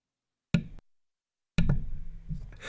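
A hand hitting a table at the end of a fast chess match: two sharp thumps about a second apart in an otherwise quiet room, the second followed by a short spell of low rustling noise.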